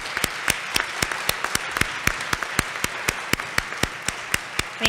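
An audience at a Women @ Wentworth 2018 event applauds, a steady patter of many hands with a few distinct nearby claps standing out sharply and regularly above the dense clapping.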